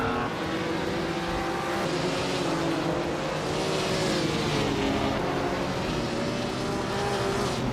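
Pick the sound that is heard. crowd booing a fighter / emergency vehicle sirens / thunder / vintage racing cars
vintage racing cars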